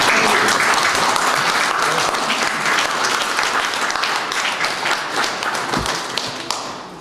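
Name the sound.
applause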